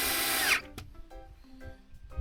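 Power drill driving screws while building a hunting blind, a loud high whine for half a second that cuts off abruptly, followed by quieter clicks and handling sounds.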